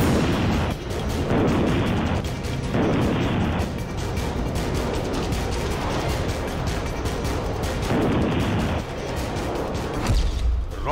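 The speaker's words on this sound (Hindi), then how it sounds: "रॉकेट लॉन्चर और तोप से हमले की ट्रेनिंग" Russian soldiers in training fire rocket launchers and artillery, heard as a dense, continuous rumble of booms and blasts with repeated heavy bursts, loud and sustained throughout with no speech.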